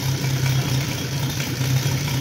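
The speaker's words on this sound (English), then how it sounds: "Engine idles extremely low." A 260cc engine fitted with an RCEXL CDI ignition idles extremely low, a steady, close, rumbling hum with a faintly pulsing beat and no talking over it.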